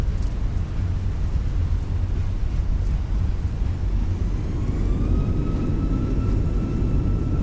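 A Fenix A319 airliner in Microsoft Flight Simulator 2024 rolls out after a crosswind landing. A steady, heavy engine and runway rumble fills the cabin while a thin tone rises and shifts as it slows.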